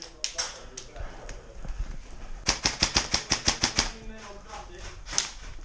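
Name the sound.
airsoft guns firing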